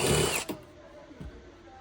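A power tool whirs briefly at close range while bolts are removed from the factory seats of a Lexus RC F, followed by a couple of shorter mechanical bursts.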